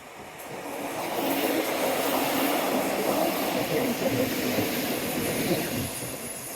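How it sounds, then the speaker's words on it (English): A train rumbles past along the Dawlish seawall on a windy morning, a broad, steady roar that swells, holds for several seconds and eases slightly, heard fairly close with wind noise mixed in. "First train of the day."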